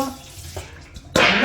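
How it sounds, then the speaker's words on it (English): Soaking water is poured off salted pork pigtails in a home kitchen: a quiet moment, then a sudden, loud splashing pour that runs on steadily to the end. "we are pouring off that water that we soaked them in"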